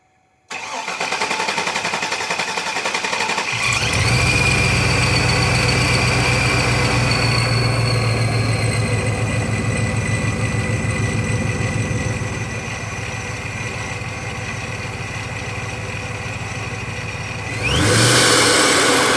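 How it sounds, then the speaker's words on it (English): A Silverado/Sierra 2500 pickup with a ProCharger P600B-supercharged 6.0 LS engine cranks and starts, then settles into a steady, rumbling idle that runs for a long stretch before a brief rev near the end. "I'll crank it up just so you can hear it idling and stuff."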